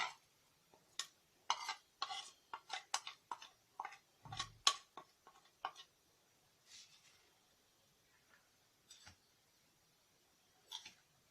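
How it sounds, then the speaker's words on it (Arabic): A spoon stirring a dry spice mix of salt, black pepper, cumin and chili in a bowl gives quiet, irregular scraping ticks and clinks, clustered in quick bursts, then sparser strokes, close by with no talking. "هقلب المكونات كويس جدا مع بعض."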